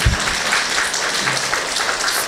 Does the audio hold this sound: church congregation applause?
yes